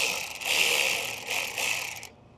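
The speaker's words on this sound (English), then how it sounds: "We're going to go ahead and loosen our turbo clamp." A ratchet fitted with an 8mm socket loosens a turbo clamp on a Ram 6.7L Cummins, giving two sustained bursts of rapid clicking close up before stopping abruptly, with no voices.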